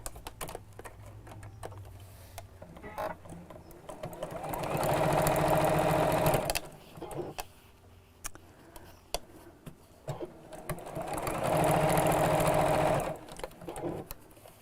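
Sewing machine stitching a woven quilt block, two loud bursts of rapid whirring stitching a few seconds each, separated by quieter handling clicks and fabric rustle.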